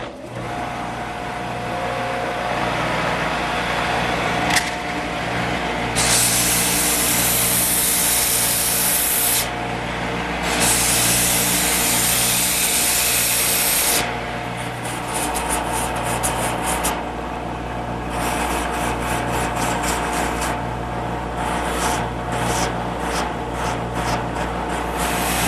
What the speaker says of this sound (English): Now with the blank still in the lathe, it's a snap to do the sanding.